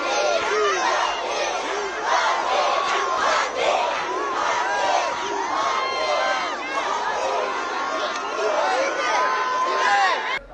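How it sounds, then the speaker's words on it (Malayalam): A dense crowd of football fans roars and shouts continuously at an airport arrivals area as the team comes out, a loud, unbroken wall of cheering and chanting. "ആരാധകരുടെ ആർപ്പുവിളികളാൽ വിമാനത്താവളം പ്രകമ്പനം കൊണ്ടു"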